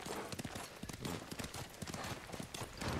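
Hooves clip-clop in a fast, steady galloping rhythm as a horse charges in the video game Ghost of Tsushima, loud and close against a dense, busy game soundtrack.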